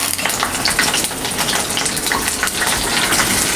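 Broken green chillies and onion drop into hot oil and burst into a loud, dense, continuous sizzle and spatter that stays close to the listener, with no talking.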